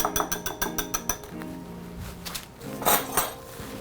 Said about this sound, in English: Whisk again.